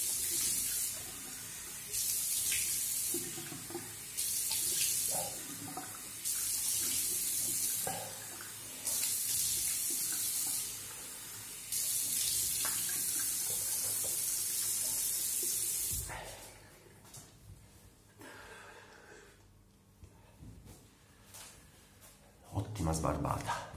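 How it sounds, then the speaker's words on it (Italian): A bathroom tap running into a sink while a freshly shaved face is rinsed, with loud bursts of water that start and stop several times before a quieter stretch with someone talking. "Non resta da fare che altro che risciacquarsi il viso e andare di dopo barba."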